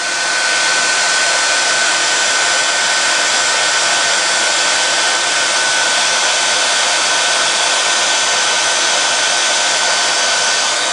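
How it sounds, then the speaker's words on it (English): A heat embossing gun blows hot air over a stamped craft piece in a steady, loud, unbroken whoosh that keeps up alone from start to finish. "once again, we are heat embossing him"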